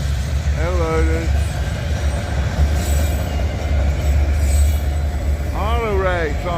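Freight train with auto racks rolling past, a loud steady rumble of wheels with sharp squealing bursts at the start and again near the end, close by.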